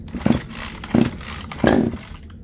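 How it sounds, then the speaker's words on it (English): A ported 42cc Troy-Bilt chainsaw being pull-started with the choke on, three sharp bursts of the engine catching briefly and dying between pulls, loud and close. "this is the first run by me of this troy-bilt saw"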